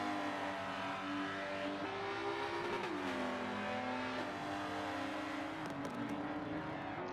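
Race cars in a racing video game rev and slide around a track during a charity championship finale in Dubai, with continuous engine whine shifting pitch and brief tire squeal, loud and steady throughout.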